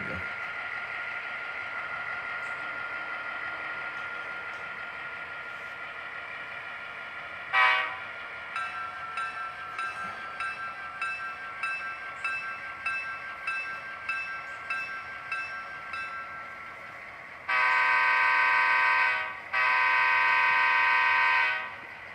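Horn sound effects from an Athearn DCC GP7u model diesel locomotive in Wisconsin & Southern livery: a short toot, a run of quick rhythmic blasts, then two long sustained loud horn blasts near the end over a faint running hum.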